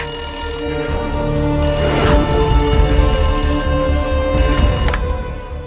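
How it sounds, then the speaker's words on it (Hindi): A phone rings loudly and repeatedly in a steady electronic pattern, close by, with no voices over it. "देख तो कौन फोन बजा रहा है अभी।"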